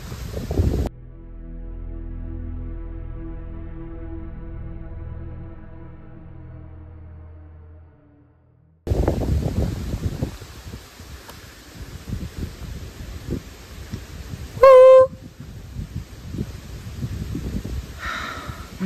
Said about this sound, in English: Oh man, it's cold. It's windy,